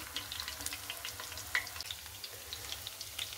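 Chicken pakoras fry in oil over a low gas flame with a soft, continuous sizzle and faint crackles, plus one brief louder pop, close by and without talk.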